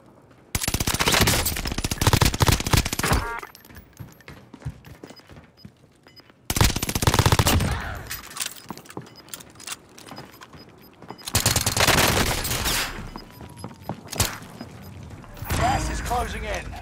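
Machine-gun bursts in the battle royale shooter Warzone come in three loud, dense volleys separated by quieter gaps, with mechanical clatter and brief game voice lines between them.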